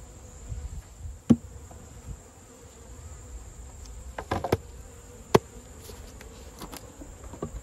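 Honey bees buzz steadily around a hive, a soft continuous drone close by, with a few sharp clicks and taps scattered through it.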